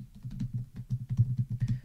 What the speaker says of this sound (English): Now I've just typed a long sentence